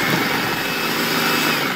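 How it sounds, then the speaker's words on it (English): A mini food processor runs continuously while chopping pickles for relish, a steady, loud whirring motor with a high buzzing tone throughout. "I have a mini food processor"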